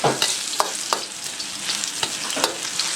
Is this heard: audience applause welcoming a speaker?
no